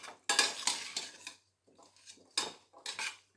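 Spoon scraping and clattering against a pot while stirring spices into mixed vegetable rice, several short bursts of metallic scraping separated by brief pauses, close and fairly quiet.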